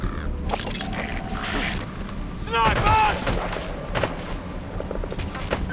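Gunfire in a Metal Gear Solid V: The Phantom Pain battle, bursts of shots mixed with booms and clatter throughout, loudest near the middle, under shouted voices.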